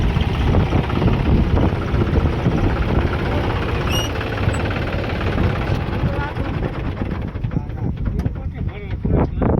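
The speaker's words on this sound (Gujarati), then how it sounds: "ટ્રેક્ટર જાય છે આમાં" A tractor engine runs on a farm while chicken manure is loaded, a loud continuous low rumble with wind buffeting the microphone and people talking over it.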